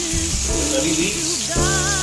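Curry leaves drop into hot coconut oil with crushed onions and garlic, giving a steady close sizzle and frying hiss beneath background music.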